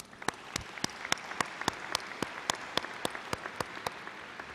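Audience applause at a spring 2021 community college commencement ceremony, clapping steady and sustained through the whole stretch with a few sharp individual claps standing out.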